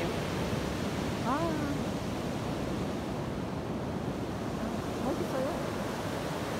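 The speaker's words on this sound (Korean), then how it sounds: "오늘은 아주 파도가 엄청 강하게 이렇게 파도가 들어오네요" Strong waves surging onto the shore on a rough day on Korea's east coast, a loud continuous roar of surf with wind, a voice faintly heard under it.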